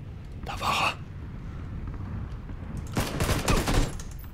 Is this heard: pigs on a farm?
no